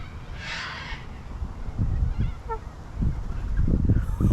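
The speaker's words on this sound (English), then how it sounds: "the cockatoo is talking" A pet cockatoo squawks and vocalizes in short, honking bursts, a harsh cry early then rougher calls repeating toward the end, fairly close with room noise beneath.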